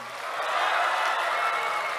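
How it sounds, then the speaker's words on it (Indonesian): A hall full of teachers applauds together, a dense, steady wash of clapping that swells early and holds at a loud, even level throughout. "Semuanya tepuk tangan"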